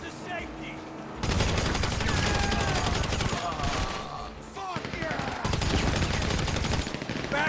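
Gunfire in the video game GTA V crackles in dense rapid volleys and scattered single shots, loud and sustained, with brief pauses, while voices talk over the shooting.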